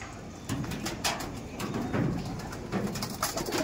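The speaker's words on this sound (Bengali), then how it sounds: "আর দেখুন পায়রা ছাড়ছে" Racing pigeons at a pigeon tournament cooing in repeated soft, throaty rolling calls, several birds close by with overlapping coos, no talking.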